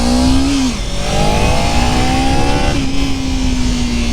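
A motorcycle engine pulls away slowly through the clutch friction zone, its steady drone dipping and then climbing in pitch as the bike eases off and gathers speed, loud and close throughout.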